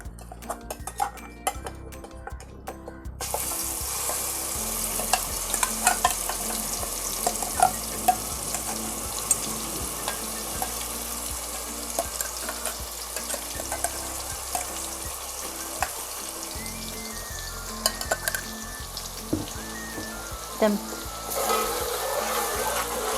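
Ground spice paste frying in hot oil in a cooking pot for a Kafri pomfret curry, a sustained sizzle with stirring and occasional clinks of utensil on metal, close and steady with no talking.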